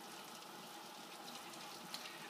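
A Maytag Centennial washing machine takes in water with a steady, soft rushing hiss that stays even throughout, quiet and alone with no talking.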